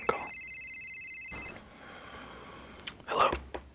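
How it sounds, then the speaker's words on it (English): An electronic telephone ringtone sounds steadily for about a second and a half, then cuts off, leaving quiet rustling and a few soft sounds near the microphone. "is that another phone call?"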